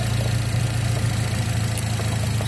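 A Mazda MX-5 Miata engine fitted with an iForce part runs steadily at standstill with no load, a loud, continuous low-pitched drone holding an even level throughout without distinct rev spikes.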